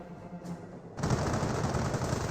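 Machine gun fire in the World War II strategy game Company of Heroes, a quiet lead-in followed by a sudden, sustained burst of rapid, dense automatic fire that keeps going to the end.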